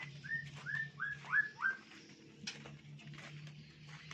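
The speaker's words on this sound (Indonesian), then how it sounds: "itu murai batu lagi ngerayu guys" A white-rumped shama sings a quick courtship run of rising whistled notes, five in a row, followed by softer chirps against quiet background.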